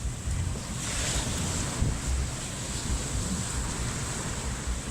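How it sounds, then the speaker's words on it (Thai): Ocean surf rolls steadily onto a beach with strong wind buffeting the microphone, a continuous loud wash of breaking waves with no voices. "คลื่นเริ่มแรงแล้ว"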